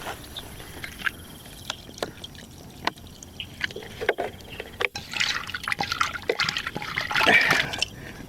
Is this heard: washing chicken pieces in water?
yes